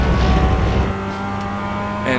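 Manual transmission car engine revving up toward 7,000 RPM, loud at first, then easing to a lower steady hum after the shift, with a quick rise again at the close.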